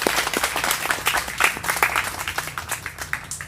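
A studio audience claps steadily for a few seconds as a guest walks out onto a Korean broadcast stage, a dense, even patter of many hands with no voices on top.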